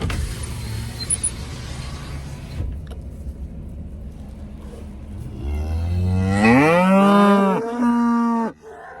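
A cow moos loudly and close, a long drawn-out low call followed by a shorter one, over a background engine rumble.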